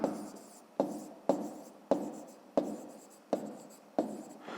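Pen strokes writing numbers in brackets for a fifth-grade math exercise: seven short, scratchy strokes at an even pace, close and quiet, with no talking.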